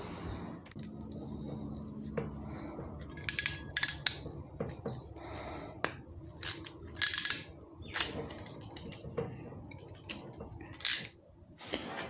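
Scissors or cutters snipping through a Starlink router cable during a van build, with irregular sharp clicks and snaps over about twelve seconds, close up and fairly quiet, mixed with handling rattles.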